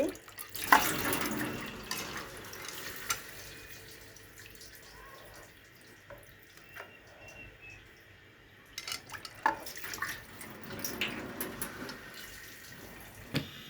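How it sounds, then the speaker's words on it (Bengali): Pangas fish rinsed under running tap water in a kitchen sink, with faint splashing and trickling, soft handling knocks and a few brief louder bursts, fairly quiet overall. "পরিষ্কারভাবে মাছটা ধুয়ে নিচ্ছি"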